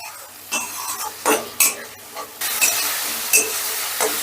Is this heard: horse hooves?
no